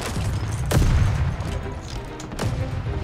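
MG42 machine gun in a plastic toy soldier battle simulation game: sharp gunshot cracks over a low rumbling battlefield din, one heavy burst early and another crack later, loud and close, no voices.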